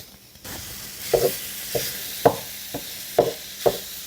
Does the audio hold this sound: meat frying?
yes